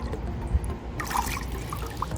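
Water sloshing and trickling as an iPhone 11 is lowered into it, a soft, steady liquid wash close by with small splashy bursts and no talk.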